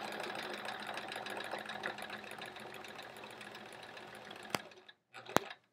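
Sewing machine doing free-motion quilting on a quilt-as-you-go block, a fast continuous close stitching buzz that stops abruptly, followed by two sharp knocks around a short pause.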